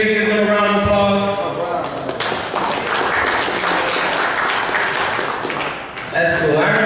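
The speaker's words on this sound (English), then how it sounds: "Give them a round of applause" Comedy club audience at a coffee house in Lorain, Ohio applauds the wait staff, a steady dense wash of clapping lasting several seconds between stretches of a man's speech.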